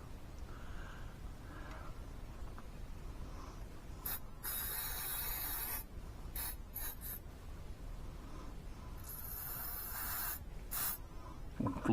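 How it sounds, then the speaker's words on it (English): Cleaner sprays onto the slide of a Jimenez JA25 pistol in several short hissing bursts, close and crisp, separated by quiet handling noises and faint rubbing. "I want to spray this down first"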